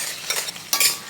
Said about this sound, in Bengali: এবারে আলু আর রাঙালুটা ভেজে নেব। এটাও নুন হলুদ না দিয়ে ভেজে নেব।